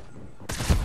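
A burst of gunfire from the video game Fortnite erupts suddenly after a quiet stretch, loud and dense for the final half second with a heavy low thump near the end.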